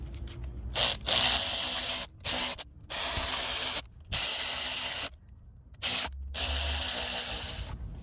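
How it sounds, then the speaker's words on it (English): Bolts on a front bearing retainer seal of a Lexus IS300 being run down with a 12 mm socket, heard as close, repeated bursts of ratcheting and spinning that stop and start in short rhythmic runs with pauses between. "But that's basically what I'm doing, putting the bolts on."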